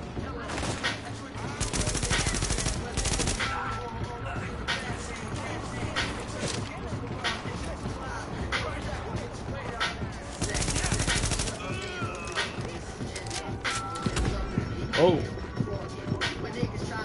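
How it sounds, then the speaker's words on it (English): Rapid automatic gunfire from a hard-recoiling gun in the video game The Division, with bursts crackling almost continuously for the whole stretch as voices talk underneath. "This gun got some serious recoil."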